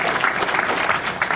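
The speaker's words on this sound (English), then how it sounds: "Round of applause for this, guys." Applause from an audience at a Marvel X-Men comics panel, a dense steady patter of many hands clapping with no pauses, moderately loud throughout.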